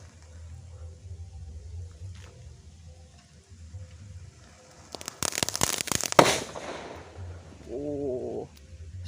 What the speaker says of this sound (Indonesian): Oke guys, ini yang terakhir, petasan rainbow stick warna apa ini?